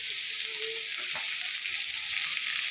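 Vegetables for homemade noodles sizzle steadily in a pan with salt, a constant close hiss with a faint scrape of stirring, no voices.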